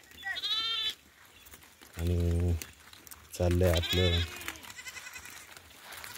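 Sheep bleat loudly and close by at a farm pen, several drawn-out calls in a row between stretches of a person talking.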